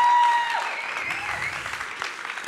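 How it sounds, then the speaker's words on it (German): A stage audience applauds to welcome a guest at a church event, with broad clapping that starts loud and stays steady, with a brief tone and faint voices under it. "Begrüßt mal mit einem tosen Applaus hier vorne bei mir auf der Bühne."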